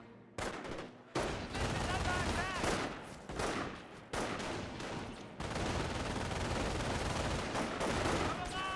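Dense gunfire from a Company of Heroes battle, rifle and machine-gun bursts crackling almost continuously with brief lulls, while a commentator talks over the shooting.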